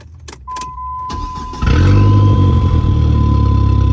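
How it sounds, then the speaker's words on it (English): A Dodge SRT-4 turbocharged four-cylinder car engine cranking briefly with a warning chime, then catching and settling into a loud, steady rumbling idle nearby. "let me turn the car on"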